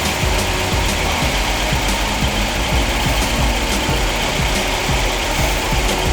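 A 1984 Volvo 240 engine running steadily with light revving while Seafoam is fed in, a constant close mechanical drone with faint ticking and vibration throughout, no voices.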